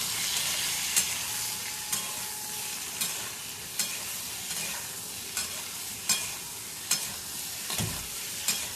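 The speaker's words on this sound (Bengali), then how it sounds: "আলুগুলোকে ভেজে নিতে হবে বন্ধুরা" Potatoes frying with salt and turmeric in a pan, a steady loud sizzle with regular scraping strokes of a spatula roughly every second, close up and without talk.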